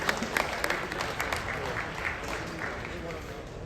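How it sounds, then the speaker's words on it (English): A crowd applauds at the opening ceremony of an FTC robotics regional championship, steady clapping that fades gradually over a few seconds in a large room. "One round of applause for those as well"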